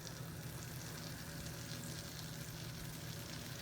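Unsalted butter melts in a skillet over medium heat with a steady, close sizzle and crackle of frying fat that holds even and unbroken throughout, with no voices.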